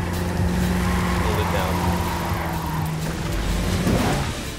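In Ghost Recon Wildlands a game car drives with a steady engine hum and rising whine, its tires scrubbing through a drift near the end, under continuous voices.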